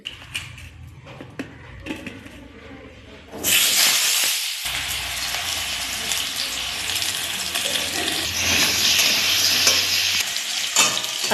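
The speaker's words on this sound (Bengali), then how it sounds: "এখন আমি আলুগুলো ভেজে নেব।" Sliced potatoes fry in oil in a pan for a mutton and potato curry, starting with quiet kitchen clatter before a loud, steady sizzle and hiss bursts in and carries on with occasional stirring.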